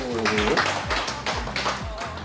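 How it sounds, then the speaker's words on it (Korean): Several people clap their hands in a steady rhythm along with an exercise song, the claps falling on a regular beat over music with people's voices mixed in. "박수 박수"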